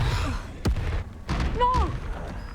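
An Incendio fire spell is cast in the Hogwarts Legacy video game, a sharp whoosh and booming burst followed by a second blast amid combat effects and a short vocal cry.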